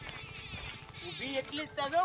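A dancing mare's hooves clip-clop in a steady rhythm in a village, mostly under people talking nearby.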